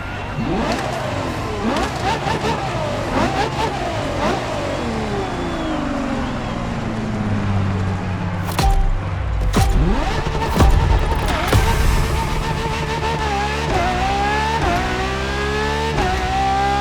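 A Ferrari LaFerrari hybrid supercar in The Crew Motorfest, engine revving and climbing through gears with sharp shifts, rising and falling pitch, loud and close, with cinematic music underneath.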